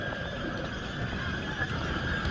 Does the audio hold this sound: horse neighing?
yes